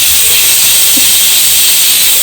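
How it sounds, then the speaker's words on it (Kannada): Steam hisses steadily from a pressure cooker's whistle during home cooking of a traditional Havyaka baingan sasam, a continuous, fairly loud rushing release with no talking. "ಇದು ಬೆಂದಾದ್ಮೇಲೆ ಕುಕ್ಕರ್ ಕೂಗ್ತಾ ಇದ್ದೀರಿ"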